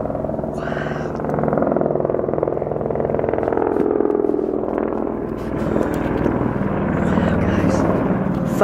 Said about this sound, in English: Helicopter with the very bright beam on,